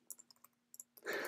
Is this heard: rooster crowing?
no